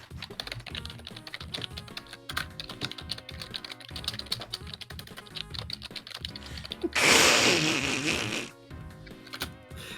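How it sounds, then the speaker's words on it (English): Rapid computer keyboard typing clatters steadily at close range for several seconds, with a brief louder burst of broadband noise near the end; no one speaks. "I hear typing."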